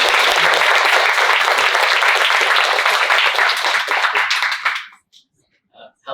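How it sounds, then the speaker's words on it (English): Warm applause from a school audience welcoming a grade 9 student presenter to the stage, loud continuous clapping for about five seconds that cuts off abruptly, followed by near silence and a brief quiet sound. "Please, everyone, can you give a warm round of applause"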